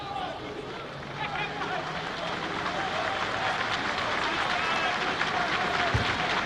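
Football crowd at a Hamilton versus Motherwell match applauding a departing player, sustained clapping swelling gradually across the stadium with a commentator talking over it.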